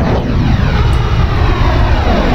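Jet engines of a North American XB-70 bomber roar steadily in Flight Simulator X, a loud, dense, unbroken rumbling drone that fills the whole stretch with no talk.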